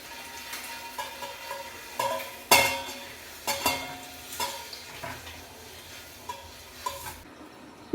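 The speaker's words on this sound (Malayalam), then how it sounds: "വരിഞ്ഞൊക്കെ വെച്ച ആ മുട്ട ചേർത്തിട്ട് ഒന്നൊന്ന് ഇളക്കിയെടുക്കണം കേട്ടോ" Boiled eggs being stirred into curry masala in a pan, with soft scraping and a series of light clinks and knocks repeating at irregular intervals over a low sizzle, close by and without talk.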